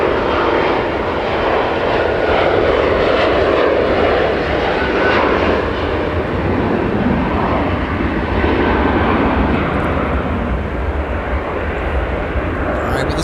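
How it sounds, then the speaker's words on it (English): A CRJ 900LR airliner of Endeavor Air roars loudly and steadily at Minneapolis–St. Paul Airport during a winter storm, its broad engine noise filling the whole stretch with no break. "CRJ 900LR Endeavor"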